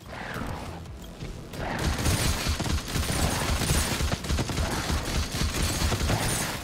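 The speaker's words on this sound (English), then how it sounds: "I'm just blind firing so much" Sustained blind gunfire in a PvE shooter video game, a dense continuous fusillade of rapid shots with mechanical clatter, loud and close, with no talk over it.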